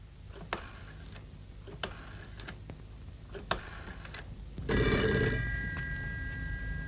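An old telephone bell rings out loud and close after several seconds of faint ticking and small knocks in an indoor scene from an Indonesian comedy film.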